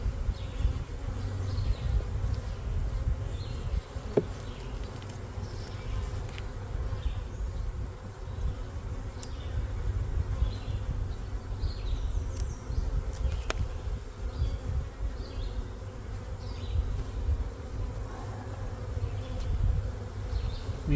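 Honey bees buzz around an opened spring nuc hive at an apiary. A dense, continuous drone fills the whole stretch, with individual bees flying close by now and then.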